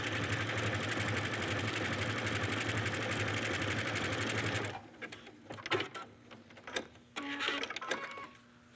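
A sewing machine stitching a connecting stitch hums at a steady, even pace for several seconds. It then stops, leaving scattered light clicks and handling noises.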